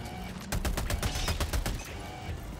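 An autocannon in the video game Helldivers 2 pounds out a rapid series of heavy booming shots over dense background battle noise, loud and close.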